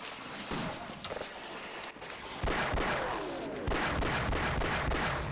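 Enemy soldiers in Half-Life on hard difficulty fire rapid automatic bursts, a near, dense fusillade of gunshots that stops and starts, growing louder and more continuous in the second half.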